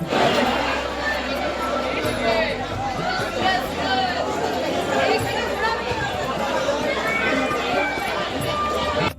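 Busy Kolkata street near Sealdah metro at night, crowd chatter and footsteps all around with a low rumble of traffic beneath, as someone talks close over the bustle.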